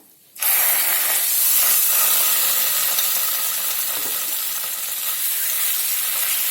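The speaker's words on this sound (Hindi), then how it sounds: "5 मिनट तक धीमी आंच पे मसालों को भून लेंगे" Ground spices with asafoetida and turmeric sizzle in a generous amount of hot oil in a pan, a steady close, bright hiss that begins abruptly and continues evenly throughout, with no talking.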